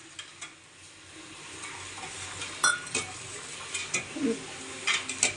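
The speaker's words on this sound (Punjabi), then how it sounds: "ਇਸ ਨੂੰ ਚੰਗੀ ਤਰ੍ਹਾਂ ਹਿਲਾਵਾਂਗੇ" A spoon scrapes and clinks around inside a pot of custard mixture with dry fruits in irregular strokes, close by, with a soft sizzle underneath.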